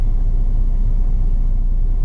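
Cabin of a 2019 Mini Cooper S 4-Door in everyday driving: a constant low engine and road rumble, loud and even throughout, with no speech.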